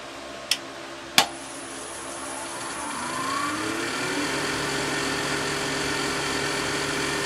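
A wood lathe spins up to 2100 RPM while turning cane handles, with two sharp knocks early on, then a steady mechanical whine that rises in pitch and settles into a constant, fairly loud hum.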